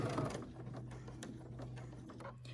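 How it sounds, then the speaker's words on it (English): Sewing machine stitching back and forth over elastic on a fabric face mask, a steady continuous motor hum throughout at low-moderate level, no talking. "I'm going to sew up here, and I'm going to go back and forth over that elastic additional times."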